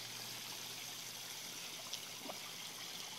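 Water from an overfilled garden pond trickles steadily into a stream, a soft, continuous outdoor babble with a faint chirp or two above it.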